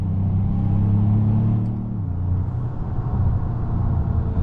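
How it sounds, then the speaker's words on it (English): Engine of a 2025 Ford Maverick Lobo pickup in Lobo drive mode, accelerating hard: a loud, close, steady low rumble that drops in pitch around a shift midway, with no talk over it. "pop it into the Lobo mode just for a second to get a quick acceleration"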